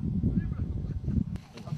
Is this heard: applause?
no